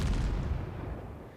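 Naval gunfire from a cruiser battle in World of Warships, a single heavy booming blast that rolls off and decays over about a second, loud and deep, with no voices.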